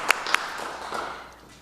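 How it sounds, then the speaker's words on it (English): A city council meeting audience gives a brief burst of applause: a couple of sharp claps, then a short patter that quickly fades away. "Let's have a round of applause for Mr. Job."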